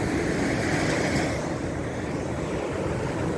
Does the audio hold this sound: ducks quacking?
no